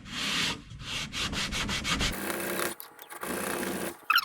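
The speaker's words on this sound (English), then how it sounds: "I'm gonna take this end graft and shave some off of each end." Wood being shaved by hand from a guitar end graft during an acoustic guitar build, a close, steady run of rasping strokes, first rapid and rhythmic, then longer scraping passes with short pauses between, no talking.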